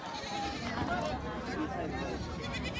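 Goats bleat faintly at the Bolda goat market in Kalamnuri taluka, Hingoli district, their cries blurred into a continuous hubbub of nearby people talking.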